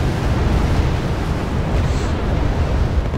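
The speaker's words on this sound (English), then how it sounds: "Off go the napalm bombs" Napalm bombs exploding in the Wargame strategy game, a loud continuous deep rumbling roar that holds steady without breaks, with no voices over it.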